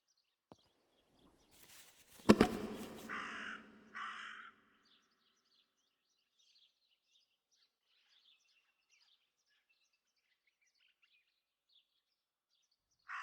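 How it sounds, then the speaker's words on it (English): A raven in Martha Is Dead gives two harsh caws right after a sharp thump, then the scene falls nearly silent apart from faint distant chirps. "That raven is making a big fuss."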